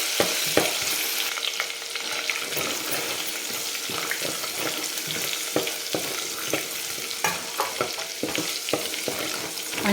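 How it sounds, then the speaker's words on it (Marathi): Ginger-garlic paste sautés in a pan for a spicy mutton curry, a steady close sizzle broken by frequent scraping clicks of a spatula stirring throughout, with no talking. "आणि 1 मिनिटभर फक्त परतून घ्यायचं आहे आपल्याला."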